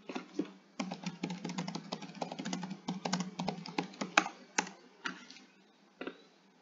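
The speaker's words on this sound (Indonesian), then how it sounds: "saya ketik dulu." Someone types on a computer keyboard with quick, irregular clusters of close, crisp key clicks and brief pauses between bursts. No voices are present.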